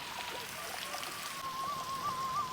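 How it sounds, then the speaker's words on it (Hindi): Water runs down the irrigation channels of the Tegallalang rice terraces in Bali, a steady, soft trickling wash with a thin, faint tone drifting over it. "ये इधर ऊपर से देखो पानी आ रहा है"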